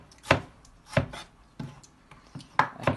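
Fresh garden-picked tomatoes chopped on a board for a salad, five sharp knife strikes at an uneven pace, close and clear with no talking.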